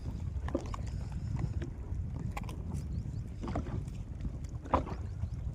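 Wind blowing over the sea, heard from a small fishing boat out to retrieve nets, as a steady low rumbling buffet with faint splashes and light knocks of water against the hull, and no talking.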